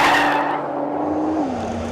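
A 2013 Nissan GT-R Black Edition pushing through a fast lap, with a sustained engine drone and tire squeal whose pitch dips near the end, heard up close without any talk.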